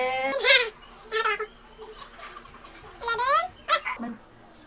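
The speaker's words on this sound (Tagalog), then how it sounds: "Ang ingay na aso po." A dog barks and yelps in short bursts, several sharp high-pitched barks spaced a second or so apart, fairly close.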